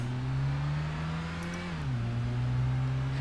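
A racing car's engine in Gran Turismo 5 holds a steady, close drone during a licence test, then its pitch drops briefly at a gear change before settling again.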